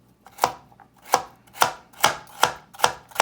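A freshly sharpened knife slices through baby carrots on a board in six crisp, evenly spaced chops, each a sharp close crunch, with no one speaking.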